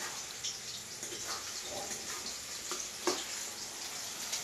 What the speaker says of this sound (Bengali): মানে 2 চামচ করে জল দিয়ে দিয়ে এটাকে ভাজবো